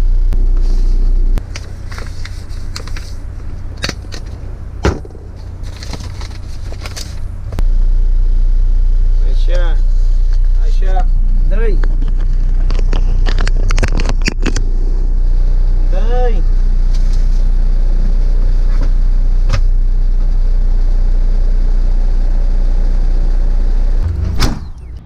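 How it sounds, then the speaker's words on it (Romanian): A truck in New Zealand reversing and maneuvering into a parking spot at a motel, its engine idling and rumbling close by with mechanical clunks and hisses, while people talk over it. "a dat și el la camionul ăsta de a dat înapoi, reușit"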